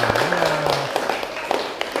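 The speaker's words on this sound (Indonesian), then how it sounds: "Ya, tepuk tangan dulu untuk kerja kalian." Classroom applause for group work, a dense continuous patter of many hands clapping throughout, with a voice speaking briefly near the start.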